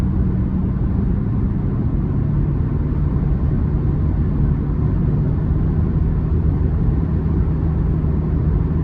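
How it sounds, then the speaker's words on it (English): Steady, loud, broadband rumble and tire roar inside a 2009 Toyota Prius 1.5 hybrid four-cylinder cruising along a road, continuous and even throughout with no talking. "Road noise is there"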